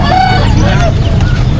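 Chickens clucking and crowing close by at a traditional market, mixed with a busy crowd of voices and some background rumble.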